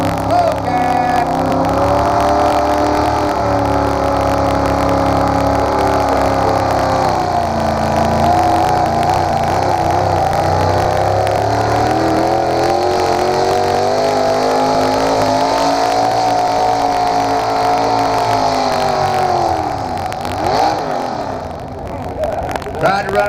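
A tractor pull truck called Bullcat roars under load at a Texas pull event, its engine held at a loud, sustained, rising drone for over twenty seconds before dipping near the end, with an announcer talking over it.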